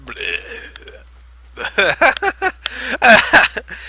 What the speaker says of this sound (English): Hear me burp in your ear, nice and sensual.